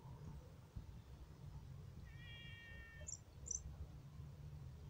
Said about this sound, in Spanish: Aquel gato blanco desde hoy que está gritando.